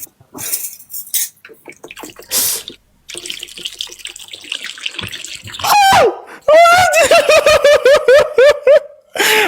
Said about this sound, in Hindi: मैं उसमें पानी गिरा रही हूँ